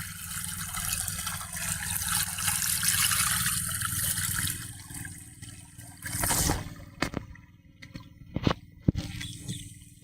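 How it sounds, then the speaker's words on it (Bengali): Water gushing at full flow from a 6-inch pipe fed by a petrol-powered irrigation pump in a farm field, a loud continuous rushing torrent that later thins, broken by a few sharp knocks and bumps. "এটা দেখেন 6 ইঞ্চি পাইপ, তাও ফুল লোডে পানি আসতেছে।"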